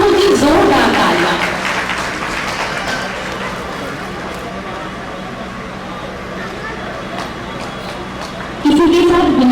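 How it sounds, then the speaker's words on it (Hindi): Loud, sustained applause from an audience at a Culture Department Uttar Pradesh Sawan Jhoola cultural event, a dense wash of clapping filling the whole stretch with a presenter's voice over it. "आप लोगों की जोरदार तालियां।"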